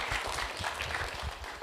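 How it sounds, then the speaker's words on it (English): Audience applause at a conference closing plenary, a steady even wash of clapping from a large hall that fills the whole moment, moderately loud with no voices over it. "I want to applaud."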